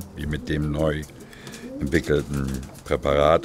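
Racing pigeons coo in a loft with low, throaty, repeated rolling calls, heard close and loud while someone talks over them.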